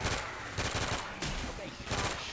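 Repeated bursts of rapid automatic gunfire in a PC shooter game, loud and close, coming in several separate volleys with short gaps, with a voice faintly mixed in.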